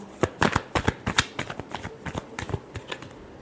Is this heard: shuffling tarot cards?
yes